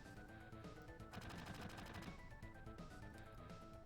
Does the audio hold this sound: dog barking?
no